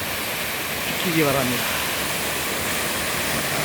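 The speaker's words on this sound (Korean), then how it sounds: "이 폭포까지라도 산책하시기 바랍니다." A waterfall at Bukhansan, swollen after the rainy season, roars as a steady, loud broadband rush, with someone talking briefly over it.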